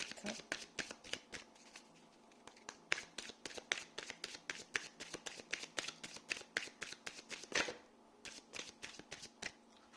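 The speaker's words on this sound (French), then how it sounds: "il m'en faut une troisième, s'il vous plaît. Une dernière carte." Tarot cards shuffled and drawn by hand at close range: a rapid run of crisp riffling slaps and flicks, with a brief pause before the quick card sounds resume.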